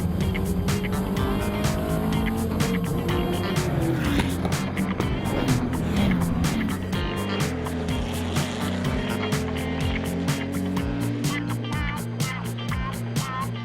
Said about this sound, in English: We'll let you enjoy the charms of this undulating track, mixing the old and new layout, with a ride in François-Xavier Entremont's Ferrari 308 Group N.